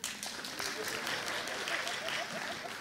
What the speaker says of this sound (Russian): Зачем вы хлопаете одни и те же люди, пожалуйста?